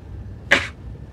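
A single short, sharp sneeze bursts out of a quiet background during a Train Simulator 2015 session aboard an Arriva GTW train.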